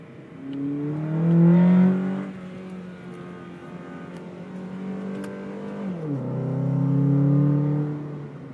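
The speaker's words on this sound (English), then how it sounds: "the intake sound is a lot louder on the Accord" A 1995 Honda Accord engine with a short ram intake revs up in low gear, a loud rising intake roar that holds, drops back, then climbs again, close by with no talking.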